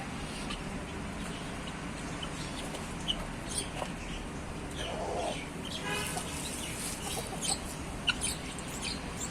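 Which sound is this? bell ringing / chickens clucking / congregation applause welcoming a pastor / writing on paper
chickens clucking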